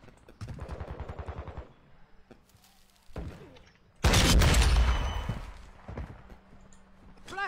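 Sentry gun in Call of Duty firing in rapid automatic bursts: a rhythmic rattling burst early on, then a louder, denser roar of gunfire with booms later, with no talking.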